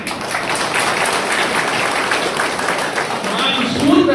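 Audience applause in a hall at a Balija association anniversary celebration, a dense steady clapping that swells toward the end, with a voice speaking over it.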